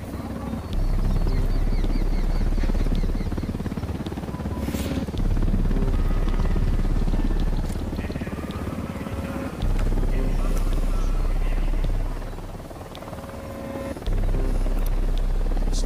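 An enemy helicopter on patrol in Ghost Recon Wildlands thrums steadily with a heavy rotor drone, close and continuous throughout, with faint game sounds in the background.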